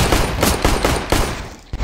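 Rapid gunshots in a Counter-Strike-style game, a string of sharp, loud, closely spaced bangs in quick rhythm, fading out near the end.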